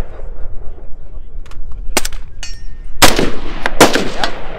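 A Tavor rifle fires outdoors, with sharp loud cracks heard as a few isolated shots and then a louder cluster of closely spaced reports, over quiet background noise.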